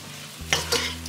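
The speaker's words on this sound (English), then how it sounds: "And just kind of stir that in there." Pumpkin alfredo sauce stirred in a pan on the stove: a low hum, then two quick close scraping swishes of a utensil over a soft bubbling sizzle, brief and unaccompanied by speech.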